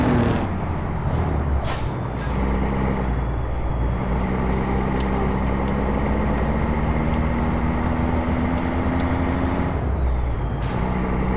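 A big rig in American Truck Simulator coming to a stop, a loud continuous engine drone with sharp air-brake hisses and bursts near the start and end, steady and close with no talk.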